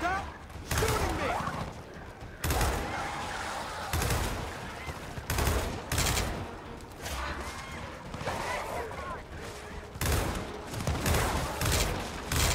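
Gears of War 4 gunfire comes in dense, repeated bursts of rapid shots with sharp impacts, loud and close, while players talk over the firefight.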